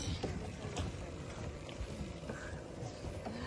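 A boat moves across water from Busang Denak toward Bakun jetty with a steady rushing, churning wash and wind buffeting the microphone throughout.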